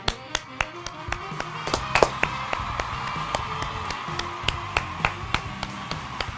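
A lively studio audience at a sports talk show claps and cheers, with sharp individual claps popping out over a steady wash of crowd noise from fairly close by.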